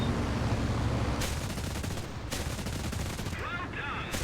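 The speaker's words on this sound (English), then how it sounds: "Engage cannon bullets." Cannon fire in an aerial combat video game, a dense continuous roar of rapid shots with a few sharper bursts and a brief whine near the end, loud throughout.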